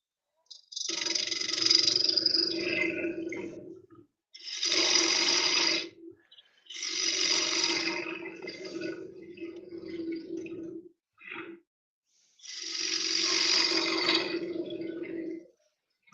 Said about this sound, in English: It's cutting really nice, that piece of wood.